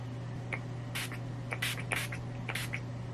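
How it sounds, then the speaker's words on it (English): Several short hissing spritzes from a makeup setting spray bottle sprayed onto a face, quick bursts in an irregular rhythm, close by over a faint background hum. "I'm going to spray that all over my face."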